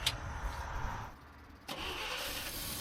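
The engine of an out-of-tune 1964 IH Travelall C1100 truck runs with a low rumble, dips briefly, then catches again and settles into a steady idle.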